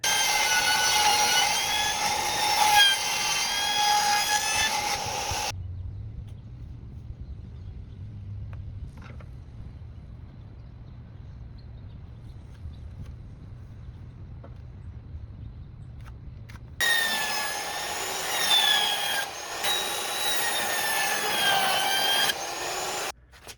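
A power saw cuts out a section of bathroom subfloor where a toilet will go, roaring loudly in two long bursts separated by a stretch of lower droning hum.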